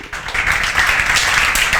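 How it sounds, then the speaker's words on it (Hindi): Dense, continuous clapping from a room of students at a lecture, steady and fairly loud with no voices on top. "और बाकी लोग जोरदार तालियां बजाएं।"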